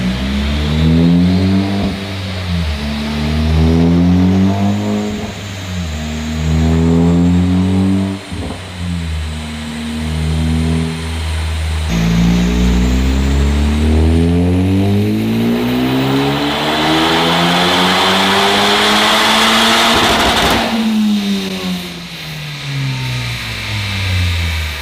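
A Honda Civic Type R FK2 engine revving hard on a dyno, repeated loud climbing pulls through the gears with brief drops between shifts, a long sustained high-rpm run near the end.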